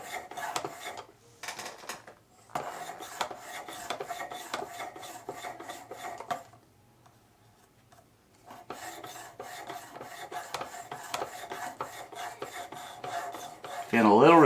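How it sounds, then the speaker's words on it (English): Rhythmic rasping strokes of a knife blade drawn back and forth on a Worksharp Precision Adjust sharpener, steady close scraping in runs separated by a brief quiet pause, with a louder scrape at the end; no talking. "So again, I'm just going to go back and forth on this knife."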